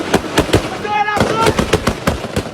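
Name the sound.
gunfire in street battle in Haiti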